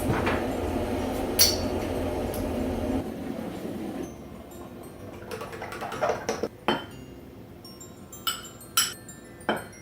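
A teaspoon clinks against a bowl while instant coffee goes into a no-bake cake mix: a few sharp metallic taps spread out, with quicker, brighter clinks toward the end over a low background rumble. No one speaks.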